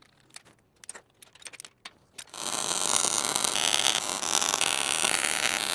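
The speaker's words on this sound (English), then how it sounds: "Welding clamp on here and just weld them right in." Unistrut brackets are welded in place for a heavy-duty attic shop elevator. A few light clanks and clicks come first, then a loud, steady, crackling weld hiss takes over and holds to the end.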